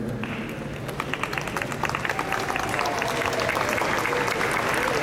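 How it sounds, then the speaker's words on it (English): An audience applauds graduating seniors at a school band's senior recognition concert, a dense, sustained crowd of clapping hands that swells and holds steady throughout, filling the hall close and loud. "give us another round of applause for these seniors"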